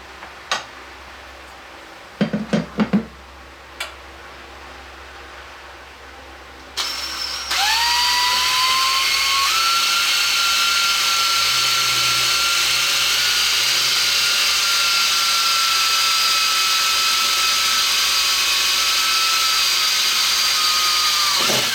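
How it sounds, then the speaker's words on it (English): A few sharp knocks and clicks, then a power drill spins up and whines steadily and loudly for a long stretch, drilling a hole while installing a Wixey WR510, close by and without talk. "So we'll check it and drill it."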